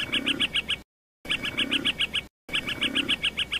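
Forest birds chirp in quick repeated bursts of short, bright notes, broken by abrupt silent gaps.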